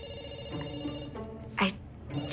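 Telephone ringing with a steady electronic tone under a few brief bursts of other sound, close and moderately loud, with no talk.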